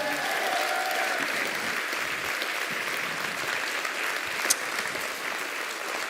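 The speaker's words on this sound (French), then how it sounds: "Michel Poulard, s'il vous plaît, applaudissements." An audience applauds Michel Poulaert in sustained, dense clapping that stays steady throughout, with a brief sharp clap standing out near the middle.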